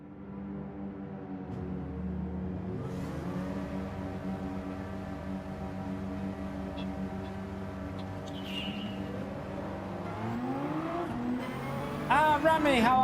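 Porsche race cars in a Gran Turismo 7 daily online race, engines droning steadily at high revs with gear shifts and a rising scream near the end, loud and continuous while someone talks over them.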